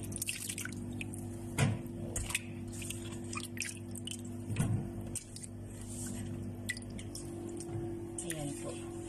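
Bitter gourd (ampalaya) being washed by hand in water, with a few splashy sloshes and soft drips over steady background hum.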